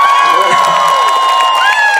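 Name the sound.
concert audience applauding and screaming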